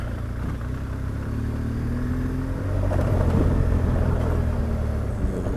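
Car driving along a road in the Florida Everglades, a steady low engine and tire rumble heard from inside the cabin, swelling slightly louder midway with a few bumps, no talk.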